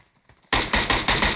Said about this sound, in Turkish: Şimdi ileriden silah sesleri bayağı geliyor.